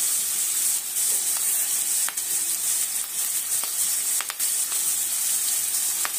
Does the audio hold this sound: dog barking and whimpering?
no